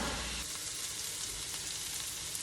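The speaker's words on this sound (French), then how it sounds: "pour faire cuire mes légumes" Vegetables cooking in a pan, a steady dense sizzle of hissing oil that runs on without a break, close and moderately loud.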